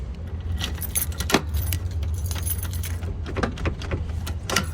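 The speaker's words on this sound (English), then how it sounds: "Grab the keys." Keys jangling during a latch guard installation: repeated metallic clinks and rattles over a steady low engine hum from a nearby vehicle, with no talk.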